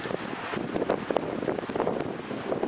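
Strong gusting wind buffets an outdoor microphone near cliffs and a bridge on the Pacific Northwest coast, a loud continuous rumble that surges in gusts throughout, with no voices.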